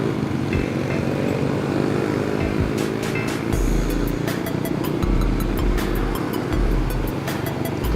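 A motorcycle rides slowly along a road, its engine a steady low drone with gentle shifts in pitch and some clicking and rattling overhead, loud and continuous throughout.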